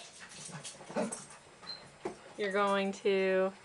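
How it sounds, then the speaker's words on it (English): Dogs whimpering near a person who talks, with soft whines and then two loud, drawn-out high cries at the end, partly overlapping the voice. "Excuse my dogs."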